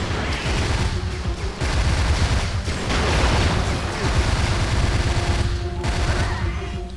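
Rapid weapon fire in the Descent 3 video game, a dense continuous barrage of shots and blasts aimed at the Super Thief robot, loud and close throughout, with game sounds layered over it and no talking.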